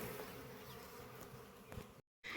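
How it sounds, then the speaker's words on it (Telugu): Honey bees swarm near their hive at a village honey harvest, giving a faint, continuous buzzing drone that holds steady before a brief dropout near the end. "ఇక్కడ మీకు ఈగలైతే అరిచేది వినిపిస్తుంది"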